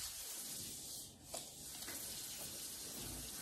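Peeled carrots rasped against a kitchen grater in a steady, close scraping hiss with a brief dip midway, continuous throughout and without speech.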